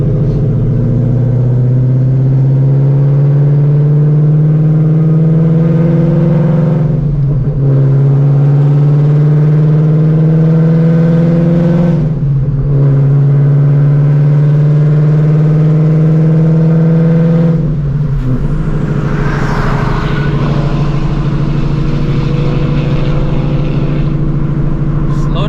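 A 900-horsepower Shelby GT350 V8 revs hard and loud, its pitch climbing steadily through several long pulls. Brief dips between the pulls mark gear changes, and the engine strains out third gear at the end.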